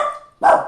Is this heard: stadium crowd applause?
no